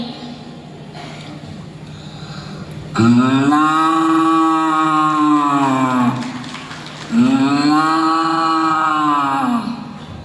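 A voice imitates a cow mooing in its shed: two long, loud, drawn-out lowing calls separated by a short pause, in a mimicry competition performance.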